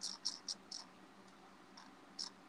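Cricket-like chirps, a quick burst of four short trills followed by two fainter, spaced ones, thin and fairly quiet over a soft background hum, with no voices.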